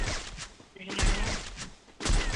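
Gunfire in the mobile shooter game Free Fire: two bursts of rapid shots, roughly a second apart, under an excited voice talking over the game.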